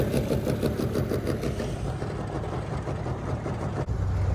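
A 1998 Carolina Skiff J16's outboard motor with a rebuilt carburetor idles close by, a low, steady throbbing putter with a quick pulsing rhythm, alone with no speech, and a brief knock near the end.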